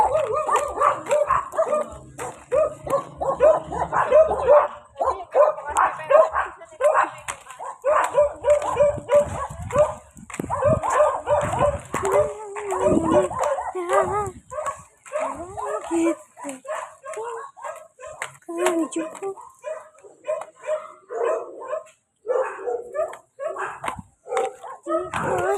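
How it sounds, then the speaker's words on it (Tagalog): Several dogs bark and yip almost constantly, close by and loud, with some whimpering mixed in, while a person talks over the commotion. "Ang daming aso ko kumakatawang dito."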